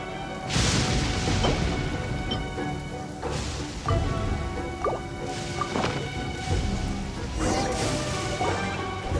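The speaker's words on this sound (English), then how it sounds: "Man, this thunder is loud." Thunder and rain in the video game Genshin Impact, with several loud rolling thunder cracks over steady rainfall and dripping, no talk.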